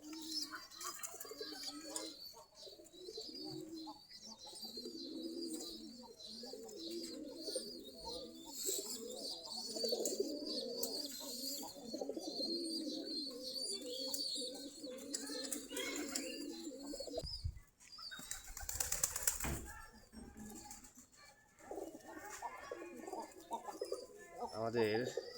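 Native Giribaz pigeons in a loft of about forty-five pairs coo in low, continuous murmurs at feeding time, with a brief burst of flapping wings and a person talking throughout.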